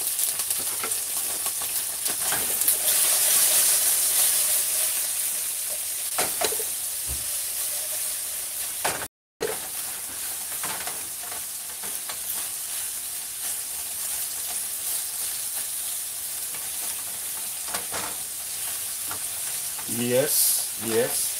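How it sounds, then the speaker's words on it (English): Okra fries in a pot beside a tinned mackerel rundown, giving a steady hissing sizzle with occasional stirring clatters and scrapes, close up, and a short spoken remark near the end. "move around my okra a little bit"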